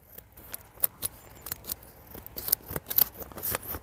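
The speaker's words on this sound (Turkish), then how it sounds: "Şu poşetin alt tarafını şöyle torbanın kesiyorum." Scissors snip through the bottom of a plastic planting bag outdoors while preparing a grapevine for cleft grafting, a series of sharp, close cuts and crinkles in an irregular rhythm.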